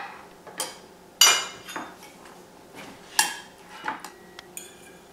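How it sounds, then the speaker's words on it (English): A knife cuts through a chunk of organ meatloaf, with sharp clinks and taps against a plate or loaf pan in a few irregular strikes, close and isolated. "Slice a little chunk of it."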